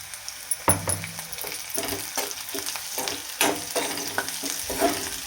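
Onion frying with salt in a pan, a steady close sizzle broken by regular scraping stirs, with no voices.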